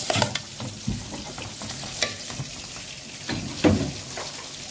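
Rice sizzling and frying in a pan as it browns, with intermittent stirring scrapes and a steady crackle throughout.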